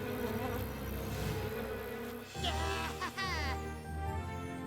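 Buzzing insects from an animated My Little Pony scene, a steady droning hum layered over music with a few brief whooshing effects, fairly loud and continuous.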